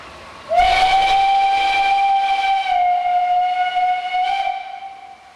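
An SNCF 141 R steam locomotive pulls into a station, its steam whistle sounding one long, loud, steady blast that holds for several seconds before fading, with faint rail rumble beneath.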